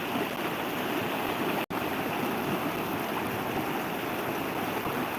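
A steady, close rushing of the Pazarsuyu mountain stream in Bulancak, Giresun, Turkey, constant and full, with one brief cut near the start.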